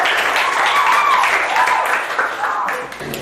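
Classroom applause for a student named Caca, a brief burst of clapping from a group of pupils running for about three seconds and tapering off at the end.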